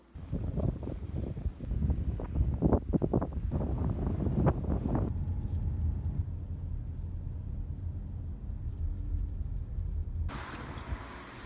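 Wind on a windy, rainy, cloudy day at Cedar Key, Florida: steady outdoor wind rumble buffeting the microphone, gusty and uneven at first, then a more constant low roar, with no speech.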